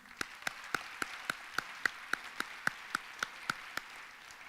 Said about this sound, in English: Please give a round of applause for Dean Bob Orr.